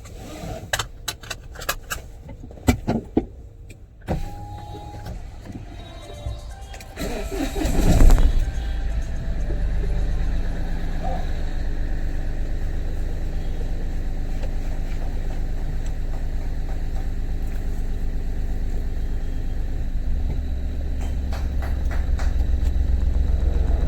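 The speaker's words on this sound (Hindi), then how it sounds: "तो अभी मैं गाड़ी को लेके जा रहा हूँ सर को लेने के लिए" A government car in Assam starts up and drives off after some early clicks and handling noises, then a steady engine rumble and road noise hold throughout, growing slightly louder near the end.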